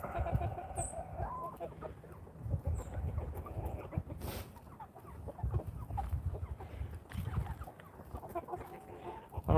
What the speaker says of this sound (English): if you want to see the younger chickens